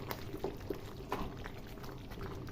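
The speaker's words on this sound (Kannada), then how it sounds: "ನೋಡಿ ಕುದೀತಾ ಇದೆ ಪಟ ಪಟ ಪಟ ಅಂತ." Water in a pan for vegetable upma bubbles and pops at a boil, with soft, irregular bursts over a steady low simmer close by.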